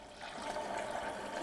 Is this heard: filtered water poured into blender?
yes